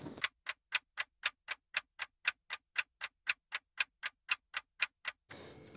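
A clock ticks in an even, steady rhythm, about twenty crisp close ticks spaced evenly apart, with quiet pauses between them and no talking.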